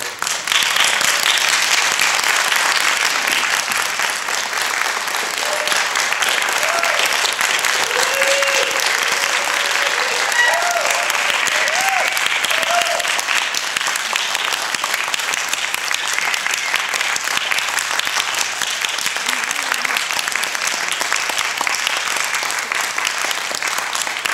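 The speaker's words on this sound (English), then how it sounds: "will you acknowledge them with a strong round of applause?" An audience at the 2011 Shakespeare Awards adult division gives award winners a sustained, dense round of applause that holds steady and loud for the full stretch without letting up.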